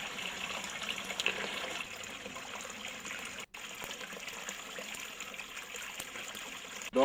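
Water flows from a spring in the Karadak hills as a continuous close rushing and trickling with a steady level, briefly cut near the middle and ending with a bump.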